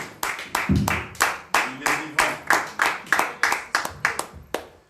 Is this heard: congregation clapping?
yes